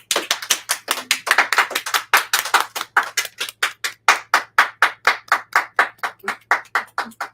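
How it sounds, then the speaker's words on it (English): Applause at an art auction from a small group, crisp close hand claps in a fast, fairly even rhythm that runs steadily throughout. "big round of applause"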